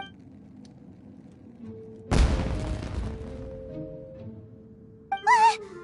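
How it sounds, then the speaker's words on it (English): A single heavy firework-like blast goes off in a video game, a sudden loud boom that rumbles and fades over a couple of seconds, followed shortly after by a brief bright chime. "It sounded like fireworks."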